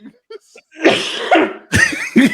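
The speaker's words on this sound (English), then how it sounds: "I have a coughing attack." A person breaks into a coughing fit: a few faint hacks at first, then loud, harsh coughs in bursts, close to the mic.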